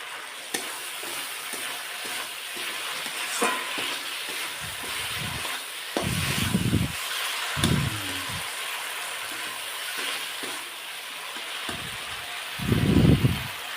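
Paneer fries in a pan for chilli paneer. A continuous close sizzle is broken by several bursts of stirring and scraping with a utensil, and no one speaks.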